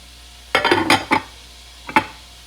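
A lid settles onto a metal pan of sizzling chicken fajitas with a few quick clattering knocks, followed a moment later by one more short metallic tap.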